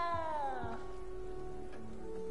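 A cat in the video game Hogwarts Legacy gives a drawn-out, falling meow, close and clear over soft background game ambience.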